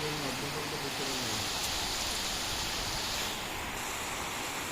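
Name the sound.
heavy rain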